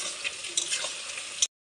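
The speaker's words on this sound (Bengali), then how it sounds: "পেঁয়াজ আর ছাড়িয়ে নেওয়া রসুনের কোয়াগুলোকে এখন ভালো করে লাল লাল করে ভেজে নেব" Onions and peeled garlic cloves with a few grains of sugar frying in hot oil, a soft, close sizzle and crackle that is briefly stirred before it cuts off abruptly.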